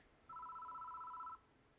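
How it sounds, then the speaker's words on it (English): A telephone rings once in the horror game Spirit Death Mark, a single steady electronic trill of about a second against a faint quiet background. "The phone begins to ring."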